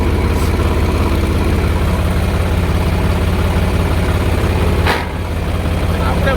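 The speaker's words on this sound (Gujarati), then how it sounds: "આ ટ્રેક્ટરને કરી દીધે ચાલુ ને ઓઇલ ચડવા દેવું પડે" A tractor engine idles steadily just after being started, a loud, close, even low rumble that holds throughout with a brief dip near the end.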